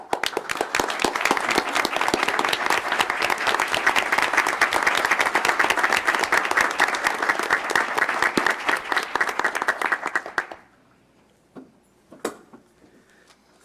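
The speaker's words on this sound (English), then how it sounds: "If you are a veteran, please stand for a round of applause on Veterans Day." A board meeting audience claps loudly and steadily for veterans on Veterans Day for about ten seconds, then the applause cuts off to near quiet with a few faint knocks.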